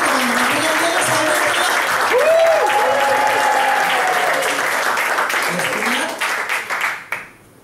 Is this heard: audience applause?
yes